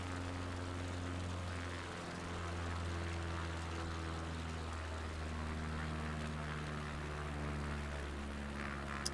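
A propeller plane's engine drones steadily in a bush-flying simulator game over Finland as power is pulled back, a continuous low hum with layered tones that shift slightly, without pauses or speech.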